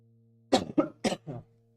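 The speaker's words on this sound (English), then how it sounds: "I caught this cough like 3 weeks ago" A close, hoarse cough comes in a quick series of four harsh bursts, with faint background hum and no talking.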